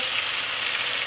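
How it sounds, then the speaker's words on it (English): Garlic frying in a hot pan for pasta marinara gives a steady, bright sizzle, close and continuous with no talking. "As soon as it starts sizzling and turning, some parts of it turning golden"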